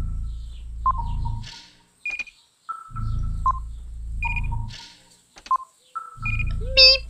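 Beeping tones in the PC adventure game Terra Forestia: short electronic beeps and tone sequences recur in a rhythmic pattern between low humming drones, ending in a rising warble.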